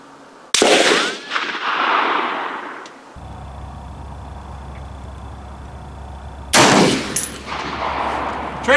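Two loud rifle shots from an M1A SOCOM fired at a steel post 200 yards out, each a sharp crack with a trailing echo, spaced about six seconds apart over a steady low hum.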